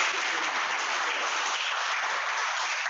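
An audience claps continuously, a dense, even wash of applause from many hands that holds steady throughout.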